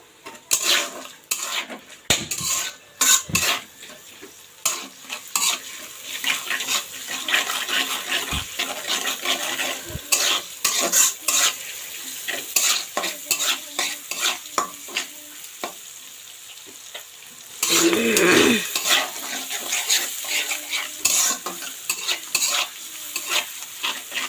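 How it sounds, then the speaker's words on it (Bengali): Onions and potatoes sautéing in a pan for egg curry, with steady sizzling, frequent scraping stirs and clinks of a utensil against the pan, louder bursts of frying near the end; no talking. "এটা আমি আলুর মধ্যে দিয়ে কষাই নিব।"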